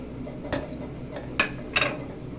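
Gram flour and sugar for besan laddu being mixed in a bowl, a spoon knocking and clinking against the bowl a few times, close and fairly quiet.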